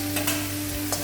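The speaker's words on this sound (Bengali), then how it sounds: "কাঁচা লঙ্কাটাকে দিয়ে এটা আমি ভালো করে ফ্রাই করে নিচ্ছি।" Green chillies fry in a pan for a vegetarian paneer dish, giving a steady close sizzle with a few soft stirring scrapes over a constant low hum.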